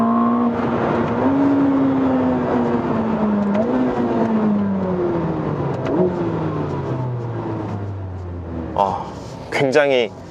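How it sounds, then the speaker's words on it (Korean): A loud Ferrari hybrid turbo engine revs and drones with its pitch sliding gradually lower, then sharp higher revs near the end, while a person talks over it. "이 터보 엔진에서 낼 수 있는 풀 사운드를 다 내고 있고요"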